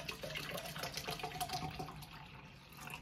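Water runs steadily from a tap into a container, a faint, continuous splashing hiss that holds for the whole moment without pause.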